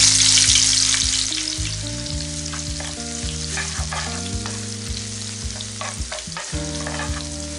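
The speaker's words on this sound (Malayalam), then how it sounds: "ഇനി ഇതിലേക്ക് 5 പീസ് വെളുത്തുള്ളി, 1 ഇഞ്ച് വലിപ്പത്തിലുള്ള ഇഞ്ചി നല്ലപോലെ ചതച്ചതിന് ശേഷം ഇതിലേക്കിട്ട് വഴറ്റിയെടുക്കാം" Crushed garlic and ginger sauté in a hot pan for a fish curry, giving a bright, steady sizzle with scraping stirs. Background music plays throughout.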